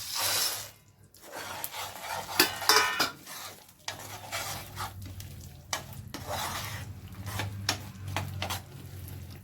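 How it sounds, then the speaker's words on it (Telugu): Peanuts are stirred into a palli barfi mixture in a pan, with irregular scraping and clinking of a spoon over a faint sizzle, fairly close but moderate in level. "ఇప్పుడు పల్లీలు వేసుకొని కలుపుకోవాలి"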